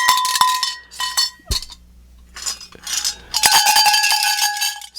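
Vintage 1950s Halloween noisemaker shaken in bursts, bright metallic clanking like a small cowbell, several loud clattering rattles separated by short pauses, close and alone.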